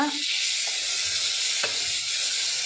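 Ginger paste fries in hot oil for a mutton keema curry, giving a loud, continuous close sizzle with a couple of brief spatula taps against the pan.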